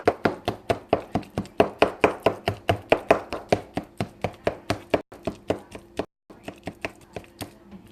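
A knife chops steadily on a cutting board for cornbread dressing with meat, close, loud, and evenly paced, pausing briefly before the rhythm picks up again.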